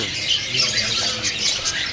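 An East Java terucuk bird calls amid other caged birds at a bird market, with scattered squawks and chirps layered over a busy, noisy background.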